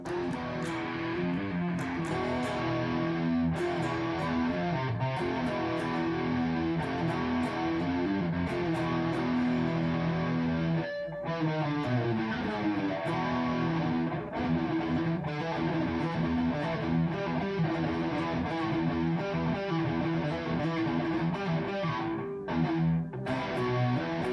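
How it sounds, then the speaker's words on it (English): A Jackson Custom USA Soloist electric guitar on a distortion channel plays a continuous, chugging riff with dense, gritty tone and brief pauses, loud and alone without any voices. "let's see if I put this on my distortion channel."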